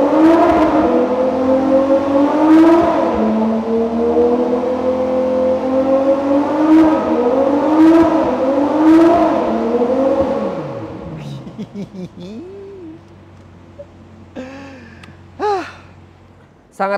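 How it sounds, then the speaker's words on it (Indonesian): A Ferrari 812 GT's V12 engine revs loudly and close, climbing and falling through several sharp, howling sweeps before dropping to a quieter idle with brief blips and crackles near the end. "Tapi bayangin ya kalau misalnya kita bawa ke jalan dengan raungan V12-nya,"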